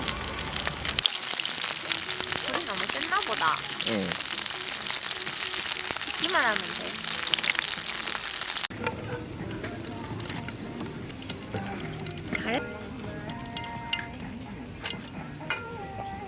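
Loud, dense crackling and sizzling of shrimp frying in hot oil at a campsite, then the sizzle drops off abruptly and quieter kitchen clatter and brief voices follow.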